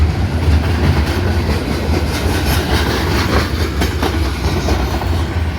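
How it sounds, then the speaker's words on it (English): A loud freight train rolls steadily past nearby in Abbeville, its wheels rumbling and clacking rhythmically over the rails. "Alright, that's that train."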